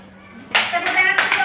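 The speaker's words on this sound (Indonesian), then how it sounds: "Tepuk tangan untuk kelompok" A small classroom group claps for group 2 after their presentation, a burst of quick close hand claps starting abruptly after a quiet moment and continuing unevenly.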